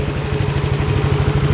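A motorcycle engine with a 62mm motodeck block set runs at a steady, rapid idle on test, loud and close, with a rhythmic low thrum and mechanical clatter and no voices.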